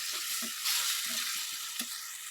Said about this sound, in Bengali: ভালো করে মশলাটা আলু আর গাজরের সাথে কষিয়ে নিলাম